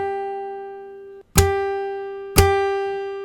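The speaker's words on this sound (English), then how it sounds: "We're going to try doing a slap and strum on just the first string." Electric or acoustic guitar's open first string sustains, then two sharp slap-and-strum hits land about a second apart, each followed by the ringing string decaying; close, fairly quiet, no voices.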